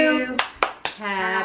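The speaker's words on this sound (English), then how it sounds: "Clap, clap, clap." Three sharp, close hand claps land in quick succession between lines of a sung birthday song, with the group's singing voices carrying on before and after them.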